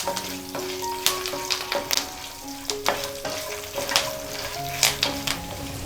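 Curry leaves, roasted peanuts and cashews being stirred in a sizzling pan for lemon rice: steady close frying hiss with scraping spoon strokes and light clinks.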